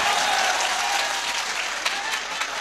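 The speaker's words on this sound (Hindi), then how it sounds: "हाथ आपके अब उठने चाहिए तालियों के लिए" Sustained applause from an audience at a Hindi poetry gathering honouring police officers, dense and even, filling the whole moment without a break.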